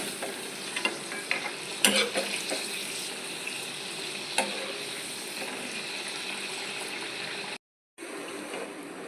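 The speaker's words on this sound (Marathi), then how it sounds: "आता आपण ते फ्राय करायला टाकलेले आहेत. याला आता आपण फ्राय करूया." Potato skins coated in cornflour fry in hot oil for crispy spring potatoes, a steady close sizzle with occasional stirring clicks, broken briefly by a short silent gap near the end.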